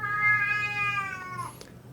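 A cat screams loudly just after pooping: one long, drawn-out meow lasting over a second, then a brief higher cry, close by with no talking.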